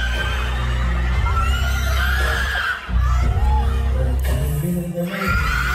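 A large crowd of fans screams and shrieks continuously at high pitch at a fan meeting in Manila, a dense wall of excited voices with brief dips in intensity.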